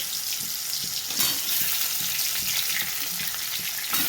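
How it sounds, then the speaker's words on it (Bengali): Chunks of elephant foot yam fry in hot oil over spiced tempering for a prawn curry, giving a steady close sizzle with soft stirring scrapes in a regular rhythm, no talking. "ওলটা সুন্দর করে ভেজে নেবো।"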